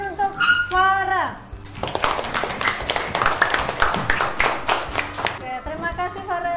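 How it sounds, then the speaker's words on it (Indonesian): Classroom applause from schoolchildren for a classmate, a quick ragged round of clapping between a teacher's spoken lines, fairly close and loud. "tepuk tangan untuk Farah."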